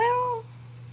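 A cat meows once, close and clear, a short drawn-out cry over a steady low hum, with quiet room tone after.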